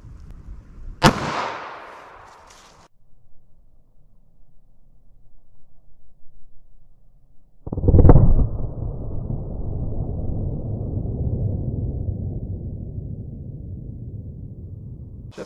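Two sharp, loud reports from a .38 Special snub-nose revolver firing Federal HST rounds into a ballistic gel block, the first near the start and a second about seven seconds later, each followed by a long ringing decay.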